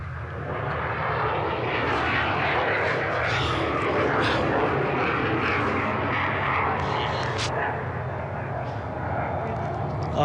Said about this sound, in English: Just an absolutely beautiful airplane.